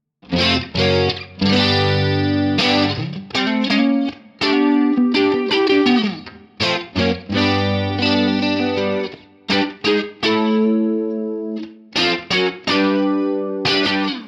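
An electric guitar run through the UA Paradise plugin with plate 140 reverb and chorus plays loud, distorted strummed chords and riffs, shimmering and washy with stops between phrases.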